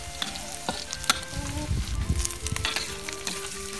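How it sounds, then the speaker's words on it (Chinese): Chili peppers and garlic stir-fry in hot oil, crackling and sizzling close up while a spatula scrapes and clatters against the wok in irregular bursts. "倒入辣椒、大蒜爆香。"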